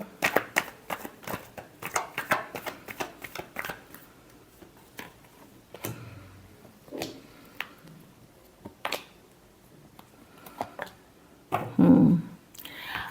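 Tarot cards being shuffled by hand in a fast flurry of riffling snaps at the start, then scattered softer card flicks and taps with quiet pauses between, close and fairly faint.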